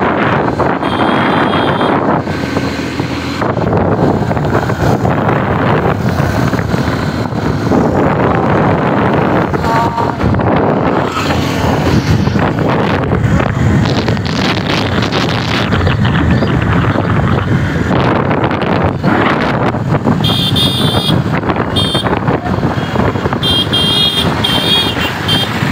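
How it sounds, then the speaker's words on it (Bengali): A motorcycle travels fast at around 100 on a road near Kuchia bridge in Barisal, Bangladesh, with loud, constant roaring wind buffeting the microphone and the engine buried under it. "এই যে বাইকটি চালাইতেছে দেখতে পাচ্ছি, আর বাইকের গতি 100।"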